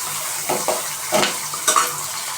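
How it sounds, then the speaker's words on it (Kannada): Onions frying in a pan toward golden brown for tomato bath, a soft steady sizzle broken by several scraping stirs of a utensil against the pan. "ಈ ಗೋಲ್ಡನ್ ಕಲರ್ ಬರುವವರೆಗೂ ಈರುಳ್ಳಿನ ನಾವು ಫ್ರೈ ಮಾಡ್ಕೋಬೇಕು."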